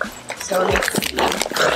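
A Boston Terrier whines and whimpers in the background, brief high cries under a person talking nearby while unpacking a dog subscription box.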